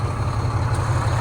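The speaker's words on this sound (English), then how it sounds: "let's get underneath this thing and have a listen to the engine, see what's going on" A 2009 Volvo VNL780 truck's D13 diesel engine idles close up from underneath, a loud, steady low rumble with no other sounds.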